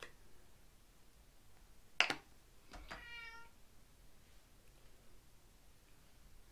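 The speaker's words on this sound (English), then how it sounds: "That's my cat." A sharp snap-like click, then a short cat meow a moment later, fairly close in an otherwise quiet room.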